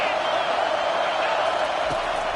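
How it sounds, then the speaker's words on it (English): Loud, steady roar of a stadium crowd at a college football game between Louisville and Miami, rising as fans try to help their defense, a dense wash of noise throughout. "It is getting loud as this crowd tries to help its defense."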